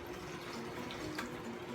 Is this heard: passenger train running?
no